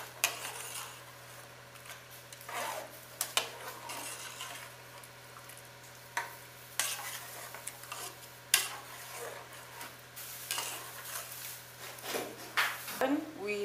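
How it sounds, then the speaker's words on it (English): A spoon stirs and mixes ingredients in a frying pan during Nigerian home cooking, giving irregular scrapes and clinks of utensil on metal over a low steady hum. "We mix it very well"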